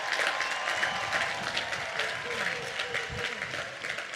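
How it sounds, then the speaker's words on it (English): A large commencement audience at a college of agriculture ceremony applauds steadily, a dense wash of clapping that stays fairly even for the whole stretch, heard at a distance in a big hall. "Let's give them a round of applause."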